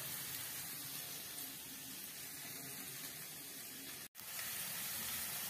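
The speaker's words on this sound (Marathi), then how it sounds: "तेलात कांदा भाजतोय चांगला. मस्तपैकी कांदा भाजून घेते इकडं." Onion frying in hot oil with cumin seeds in a home kitchen pan, giving a steady, dense, close sizzling hiss that cuts out for an instant near the end, with no talking.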